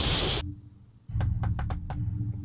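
Sharp knocks on a door in a Sopranos scene, about six raps in an uneven cluster, loud and close, following a brief burst of noise.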